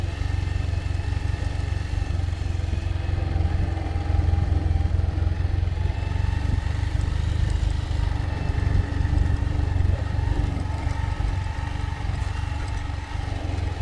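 A motorcycle rides downhill in first gear on a muddy road at a bypass construction site, with a loud, continuous low engine drone and rattling throughout, no speech.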